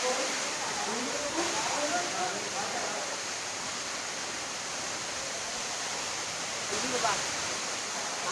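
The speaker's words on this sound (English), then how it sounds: "check that out, the waterfall right behind me" Steady broadband rush of Satrem Waterfall in Valpoi, Goa, a constant roar with no breaks, close and fairly loud throughout.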